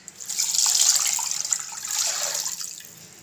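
Tap water running and splashing into a container, poured as cooking water for a Filipino-style steamed chicken dish, a steady close pour lasting a few seconds with no talking.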